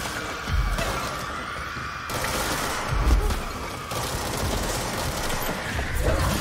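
Gunfire in the action video game Control, a few booming shots spaced out over a steady droning game backdrop, loud and close with no talking.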